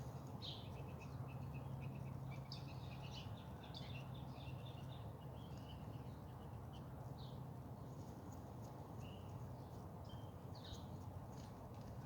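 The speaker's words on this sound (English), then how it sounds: "them birds drink more of my rainwater than I get a chance to get out" Birds at a rainwater collection in a home garden, with scattered faint chirps and calls over a quiet outdoor background, some distance away.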